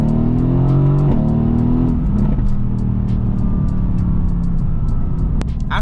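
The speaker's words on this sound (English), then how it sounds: "And while I was accelerating, I did not take my foot off the throttle." Car engine in first gear, selected with steering-wheel paddle shifters, pulling hard under steady throttle, a loud continuous drone that rises in pitch and then holds, with no talking.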